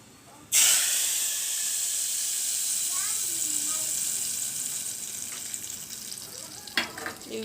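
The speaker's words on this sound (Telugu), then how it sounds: "ఏదో పోపు కూడా దీనిలో వేసేస్తున్నాను" Spice tempering hits hot oil for dal made with avakaya mango pickle. A sudden loud, close sizzle bursts out, then slowly eases into a steady hiss, with a few sharp crackles near the end.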